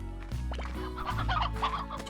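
Chickens in the Slime Rancher game clucking close by, a busy overlapping run of short clucks over a low musical background.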